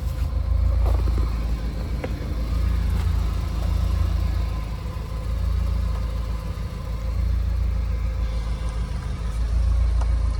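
A warm 1988 Lancia Delta HF Integrale with a 2-litre 8-valve engine idles steadily, a low, even rumble with slight swells that holds for the whole stretch, heard close and without talk.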